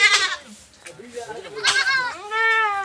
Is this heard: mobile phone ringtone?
no